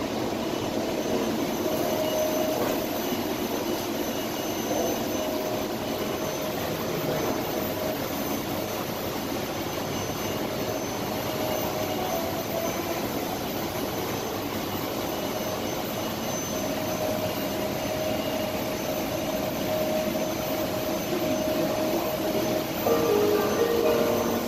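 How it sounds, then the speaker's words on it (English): A steady rumbling drone of the Skylink airport people mover train departing at DFW Airport, Texas, with a faint whine, continuous and fairly loud, with no talking. "train is departing"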